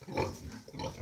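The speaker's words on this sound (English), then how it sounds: "That's the mama pig." A mother pig in a video game grunts softly in two short bursts, low and fairly quiet, with no talk over it.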